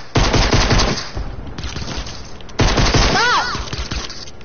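Fortnite gunfire fills the scene with loud, rapid bursts of automatic shots in two long volleys, a brief gap between them, and shouting voices over the top.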